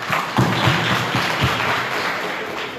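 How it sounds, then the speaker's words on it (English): Conference audience giving a round of applause, steady dense clapping with a few louder thumps early on, sustained throughout at moderate level. "Please, we give him a round of applause."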